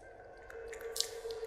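Dirty water dripping from a broken sewage pipe in Silent Hill 4, a few soft wet drips and a squishy splat standing out over a low steady ambient hum.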